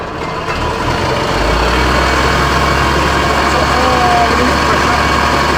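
The pump engine of a Dennis Sabre fire engine with a Godiva pump runs loud and close, rising to a heavier low roar as throttle is applied and holding a steady drone.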